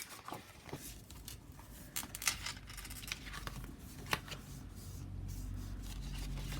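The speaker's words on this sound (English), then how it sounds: "I just need to trim that a tiny bit more." Paper being trimmed with scissors during crafting, giving a few soft, close snips and rustles over a quiet background with no talk.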